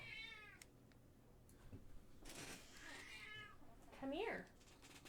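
A cat lets out one short, rising-then-falling meow near the end, fairly close and clear, over a steady background hum with some softer indistinct sounds before it.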